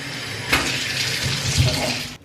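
Cold tap water runs onto pants to soak them before bleaching, a soft continuous splashing and trickling flow that starts with a sharp gush and continues steadily.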